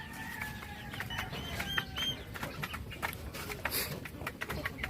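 Chickens and newly hatched chicks at a small farm, clucking and peeping continuously at close range, with a voice talking faintly underneath.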